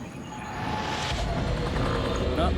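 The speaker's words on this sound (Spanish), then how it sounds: "Es un helicóptero, lo sé." A low, steady helicopter rotor and engine drone grows slightly louder, approaching from a distance over icy mountain peaks.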